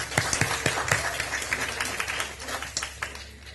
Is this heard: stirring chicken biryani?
no